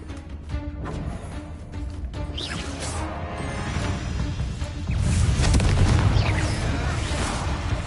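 Confringo blasting spell explosions in the game Hogwarts Legacy, a run of booming crashes and bursts that swell louder and heavier in the second half, with rumbling low impacts.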